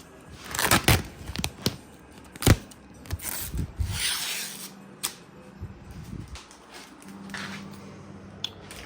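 A blade slicing and scraping through vinyl wrap on a Mazda Miata's body panel, close, with a continuous rough rubbing texture punctuated by sharp clicks and a faint low hum in the background, no talking.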